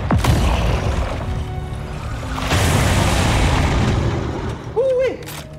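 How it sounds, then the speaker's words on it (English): An explosion in the Spider-Man 2 video game sounds as a loud, rumbling boom that fills the clip with dense low-end crackle and a second surge midway, while a voice speaks briefly near the end. "Kaboom!"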